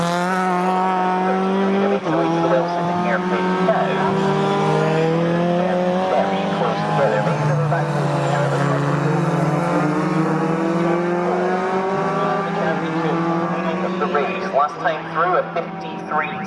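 Historic race cars at Snetterton circuit, heading toward the Wilson hairpin in a Sports 2000 Championship race, hold a loud, steady engine drone with rising and falling pitch, while a commentator talks over it throughout.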